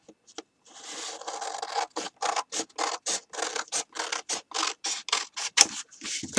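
A Capri Sun drink box being cut with whatever tool is at hand, no paper trimmer: a close run of rhythmic, crunchy scraping cuts, roughly evenly spaced, alone without talk.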